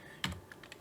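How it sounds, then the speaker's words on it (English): Soft clicking of computer keyboard keys, a few quick taps close by in a quiet room with no talking. "We are just going here and typing make"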